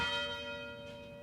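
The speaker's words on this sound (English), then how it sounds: "The University Tower chimes ring in another session" University tower chimes ring out, a sustained bell tone with long resonant overtones fading slowly.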